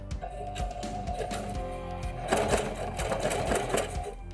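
A Singer Denim HD6335M sewing machine stitches across a thick denim seam, its steady motor whir and needle clatter running continuously close by, growing louder and busier partway through.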